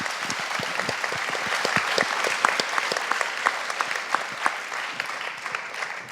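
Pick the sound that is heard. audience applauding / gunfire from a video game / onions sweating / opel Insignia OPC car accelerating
audience applauding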